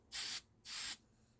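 Hairspray from an aerosol can is sprayed onto chalk artwork in two short, close hissing bursts of about a third of a second each, separated by a brief quiet gap.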